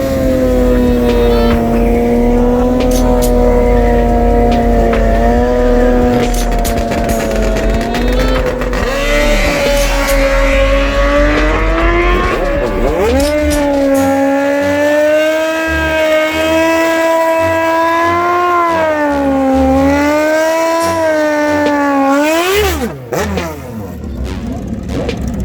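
Stock-motor Kawasaki ZX10 and Suzuki Busa sport motorcycles race side by side, their engines screaming loudly and steadily at close range, pitch climbing and dropping through gear changes for about twenty-two seconds before easing off.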